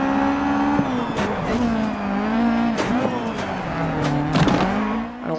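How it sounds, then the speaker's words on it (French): Renault Clio 1600 rally car in DiRT 4, its engine droning loud and close with steady revs that dip and climb through gear changes, broken by brief tire squeals and skids. "Je trouve que le son de la Clio est magnifique. Le 1600 bourdonne terriblement."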